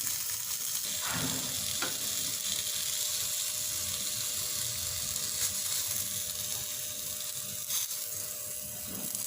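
Food shallow-frying in a pan gives a continuous soft sizzle and crackle at close range, broken by a few brief scrapes and clinks of utensils, with no one speaking.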